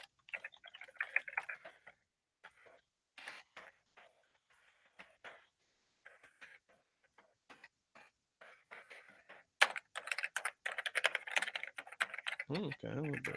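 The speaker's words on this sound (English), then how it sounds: "I don't know how much the typing is coming across" Typing on a computer keyboard comes in faint, irregular bursts of clicks with quiet gaps between them. Louder, denser keystrokes start near the end, and a low rumble enters in the last second.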